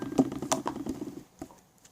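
Stretchy, sticky slime being poked, making soft, quick wet patters and pops close by that fade into quieter taps.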